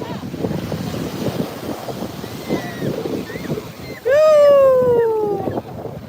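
Sea waves wash steadily onto a beach in St. Thomas, with rushing surf and wind noise throughout, and a voice rises briefly over the water near the end.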